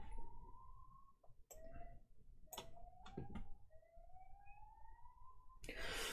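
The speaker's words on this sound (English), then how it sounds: "You guys are just here for the ambulance noises," A siren passes outside, its rising and falling wail repeating faint and distant over several seconds, sweeping slowly upward, with a few sharp knocks and clatters nearby.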